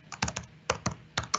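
Fast typing on a computer keyboard, a close run of crisp clicking keystrokes in short bursts with no voice over them.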